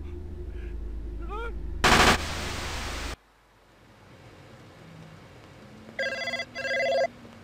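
A telephone rings twice in quick electronic bursts near the end, after a loud burst of noise and a quiet stretch.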